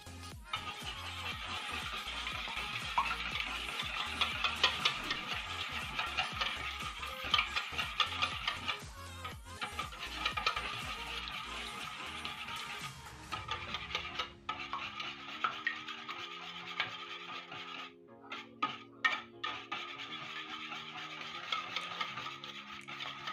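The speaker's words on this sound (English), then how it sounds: "Now I'm gonna whisk my eggs and cream together" Eggs and cream whisked together in a bowl, a busy rasping, ticking scrape that runs steadily for a while, then turns sparser and clinkier over a tonal background sound.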